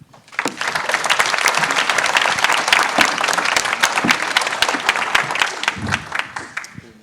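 Sustained audience applause for presenters at a resuscitation guidelines launch event, a dense, steady wash of many hands clapping that swells quickly and holds loud for several seconds before tapering.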